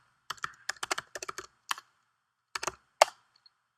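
Keystrokes on a computer keyboard while entering MySQL database connection details, near and clear, in quick bursts of clicks with short pauses between groups.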